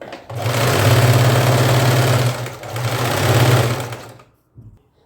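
A sewing machine stitches a fall onto a saree in one steady, loud, close run of rapid mechanical whirring, briefly dipping once, then stopping suddenly, followed by a short click.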